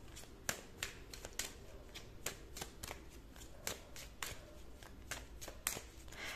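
Tarot cards are shuffled and drawn in a steady run of crisp riffles and slaps, close and distinct, each card snap standing out clearly against a soft papery rustle with no talking.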